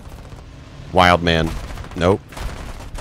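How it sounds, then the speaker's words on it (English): Aircraft machine gun fire in the air combat game War Thunder: a steady background rattle of rapid shots runs under a man's short spoken exclamations. "Well, I'm wildly firing."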